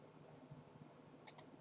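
Two quick, sharp mouse clicks close together, faint and crisp over a quiet room hum, with no talking.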